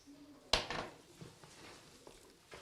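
A utensil knocks sharply against a bowl once, then scrapes and taps softly while egg yolk is stirred into beaten egg white, close and fairly quiet.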